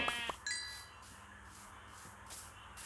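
A video-game sheep gives one short, bright bleat, preceded by a couple of sharp clicks, with soft chime-like tones and faint game ambience trailing after it, no voices heard.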